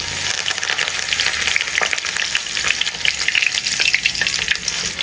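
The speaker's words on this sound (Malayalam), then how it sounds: "വെളുത്തുള്ളിയും കറിവേപ്പിലയും പെട്ടെന്ന് തന്നെ ഫ്രൈ ആയി കിട്ടിയിട്ടുണ്ട്." Crushed garlic and curry leaves fry in hot oil with a loud, dense, crackling sizzle that never lets up, spattering the whole time.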